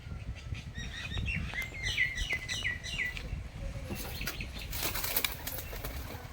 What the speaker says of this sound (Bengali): এই যে দেখুন ক্যাপ ফাটার মতো শব্দ হচ্ছে, এই যে বাজি করছে পায়রাটা